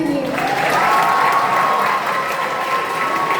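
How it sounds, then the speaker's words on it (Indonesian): Applause from an audience at a school Lunar New Year (Imlek) service, steady and dense through the whole stretch, with a sustained tone ringing above the clapping. "Beri tepuk tangan sekali lagi."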